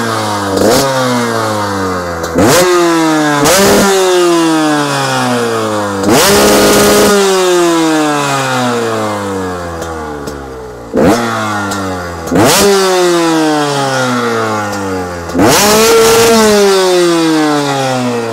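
A Husqvarna 125 TX two-stroke motorcycle fitted with Akrapovic and FMF exhausts runs close up, revving hard in repeated sharp bursts that fall back between throttle blips, loud and steady with no talk.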